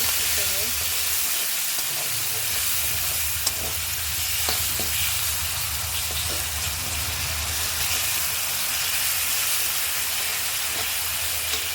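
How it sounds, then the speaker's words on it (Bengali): Spices fry in hot oil in a pan for a tangra fish and tomato curry, giving a loud, steady, close sizzle that runs unbroken throughout with faint stirring clicks. "তেল দিয়ে আমি মশলাটা কষিয়ে নিচ্ছি"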